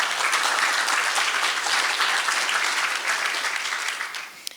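Sustained audience applause at a candidates forum hosted by a community college, even and full-bodied before tapering off near the end.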